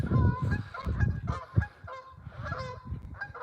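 Canada geese honk close by in a rapid, overlapping series of loud nasal calls with no talking.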